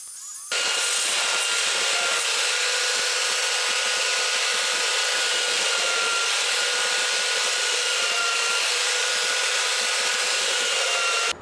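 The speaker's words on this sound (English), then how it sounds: "I'm only going to route up to the prongs, just on the handle." Wood router shaping the handle of a wooden slingshot, a loud steady high-pitched whine running continuously after a brief start, close and alone with no talk.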